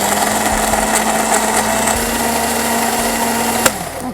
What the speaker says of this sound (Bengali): এখন আমরা এটা ব্লেন্ডারে ভালো করে ব্লেন্ড করব।